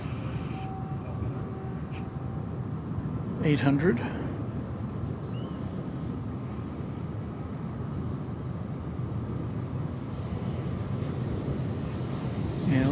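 American Airlines Boeing 737-800 from Guadalajara arriving at DFW Airport, a steady distant jet roar that swells briefly, with a voice talking over it.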